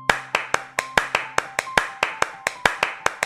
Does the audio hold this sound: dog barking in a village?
no